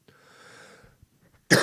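A single sharp, loud dry cough from a man with a dry throat bursts out at the end, after a faint wheezy breath.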